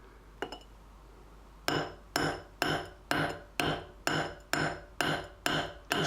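A multi-tool knife's glass breaker strikes glass in a steady series of nine sharp, loud taps about half a second apart, each a bright clinking crack, after a couple of faint ticks, with no talking.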